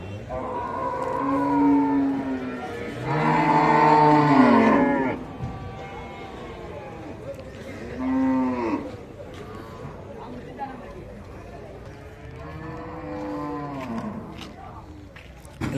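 Cattle low and moo at the Melapalayam cattle market, several long drawn-out calls rising and falling, one loud and near, others fainter, over a busy background of crowd chatter.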